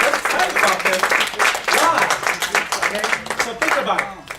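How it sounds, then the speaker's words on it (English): Applause from an audience at a regional business meeting, dense clapping filling the room throughout, loud and close, with some voices mixed in. "Give these people a round of applause."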